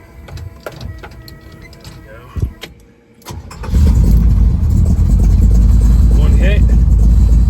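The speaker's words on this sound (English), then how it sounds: "I'm going to go ahead and fire this thing up." A 1968-69 first-generation Camaro with chambered exhaust cranks briefly after some small clicks and handling noises, then catches and settles into a loud, deep, rumbling idle that fills the rest of the clip; a voice is briefly heard early on.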